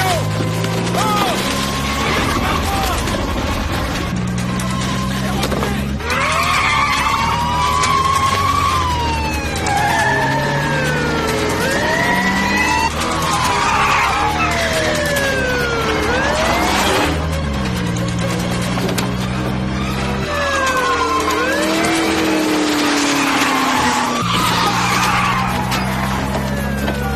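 A delivery van is driven hard through city streets, its tires squealing in repeated sweeping skids over a roaring engine. Police sirens wail throughout, and the chase stays loud and close.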